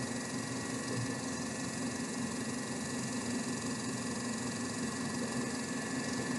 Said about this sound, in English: This motor's running at 1335 RPM.